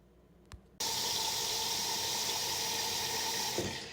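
Water gushes from a sink tap into a pot of herbs, starting abruptly after a brief knock and running as a steady, loud, close rush before easing off at the end.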